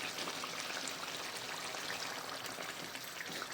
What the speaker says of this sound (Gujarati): ચાલો હવે નાખી દઈએ પાણી.